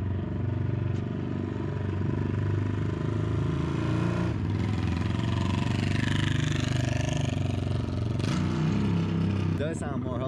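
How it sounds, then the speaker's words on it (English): Motorcycle with a loud exhaust idling and rumbling close by for the whole stretch, a steady heavy drone with brief surges, while people talk over it. "the camera really does justice to that exhaust, but that shit's loud"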